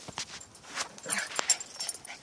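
A dog playing soccer gives soft whimpers and short yips, a scatter of brief broken cries at close range with a ball-chasing scuffle and no talk over them.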